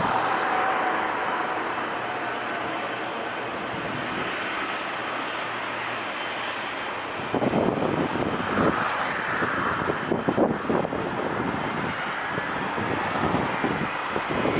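An airliner flies in to land at LAX, a broad steady roar of jet engine and wind that swells louder partway through and stays rough and close to the end.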